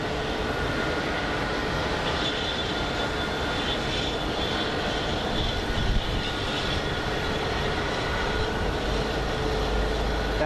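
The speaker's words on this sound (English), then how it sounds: "the Embraer is the first to depart, as you can see it over there" Embraer jet departing Sky Harbor International Airport in Phoenix, a steady, loud broadband engine roar that holds constant throughout without any talking.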